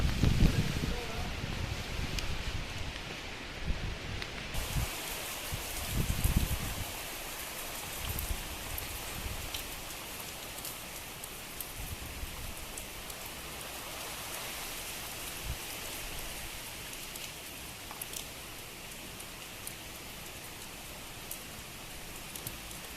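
Steady rain pours down in gusty wind, a dense even hiss lasting throughout, with a few low thumps and a voice talking early on.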